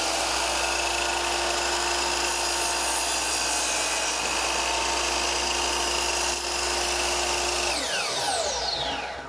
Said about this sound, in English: I'm going to start the saw.